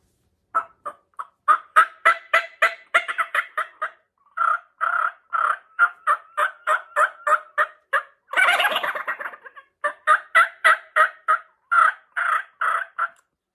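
A homemade mouth-blown diaphragm turkey call making series of sharp, rapid yelps, close and loud, with a brief raspy burst partway through before the yelping resumes.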